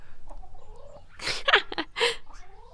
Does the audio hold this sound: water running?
no